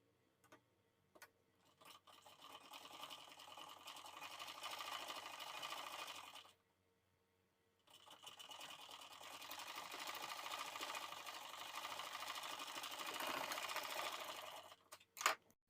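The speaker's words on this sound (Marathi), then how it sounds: "तर या ठिकाणी आपण अशा प्रकारे या पट्टीला शिलाई देऊन घेतलेली आहे" Blouse strip being stitched on a sewing machine, the motor whirring in long steady runs with a brief pause in the middle and a few clicks at the start and end.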